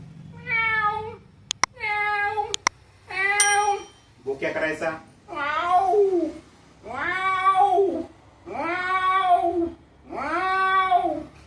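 A voice mimics a cat with a series of about eight meows, some short and some long and wavering, close and loud with brief pauses between.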